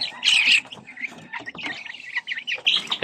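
Young chicks in a backyard poultry pen peeping, a cluster of high, shrill chirps up close, repeating in quick irregular bursts with short gaps and no talk.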